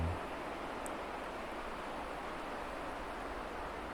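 A continuous, even wash of soft broadband noise of sea waves rolling on a shore holds steady throughout without breaks.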